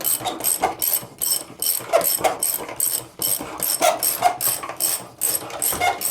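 Socket ratchet tightening the band on a pool cartridge filter, a rapid series of close, loud clicking ratchet strokes in repeated bursts with short pauses between pulls.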